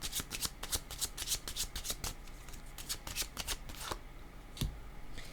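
Cards for a reading being shuffled close up, a rapid run of riffling bursts and soft rubbing that slows toward the end, followed by a single sharp tap, with no one speaking.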